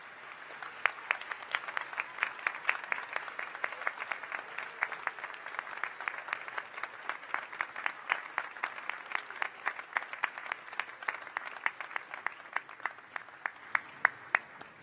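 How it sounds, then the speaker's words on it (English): Graduates at a December 2018 university graduate commencement ceremony break into sustained applause, a dense even patter of many hands clapping steadily throughout, with no voices over it. "the graduates may show their appreciation by a round of applause"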